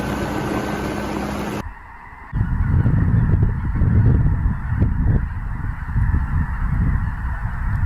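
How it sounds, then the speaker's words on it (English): A large flock of thousands of snow geese honks continuously in flight, a dense chorus of overlapping calls. "Thousands of snow geese flap their wings at the same time in the Minnesota sky"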